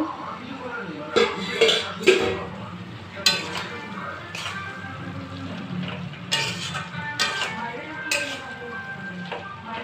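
A lid lifted off a cooking pot of chana dal and cabbage, with several metallic clanks and scrapes of lid and utensils against the pot over a low simmering sizzle, close by, with a voice talking.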